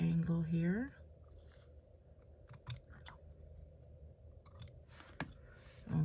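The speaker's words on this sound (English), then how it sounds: "I'm going to take my scissors." Ribbon scissors snip through ribbon at an angle in a quiet room, a few crisp close cuts and clicks following a brief moment of speech.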